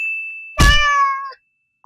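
Cute kittens in a VR game give a single loud, drawn-out meow with clear tonal harmonics, set over a steady high electronic tone, followed by silence and then a brief chime.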